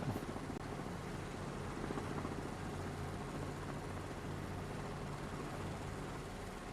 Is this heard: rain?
no